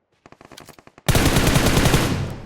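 Gunfire in an online shooter: a quick run of separate single shots, then a sudden dense burst of loud, continuous automatic fire that fades slightly toward the end, close and without talk.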